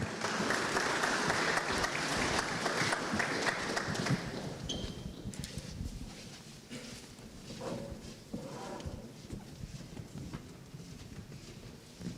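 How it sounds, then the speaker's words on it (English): A round of applause at a high school football media day for the Camden County Bruins, fairly faint and dense at first, then thinning into scattered claps and room noise. "have a round of applause for the Bruins of Camden County"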